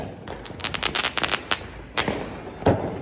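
Firecrackers burst during Diwali celebrations in a residential lane, a rapid string of sharp cracks followed by a few separate louder bangs, some close and some farther off.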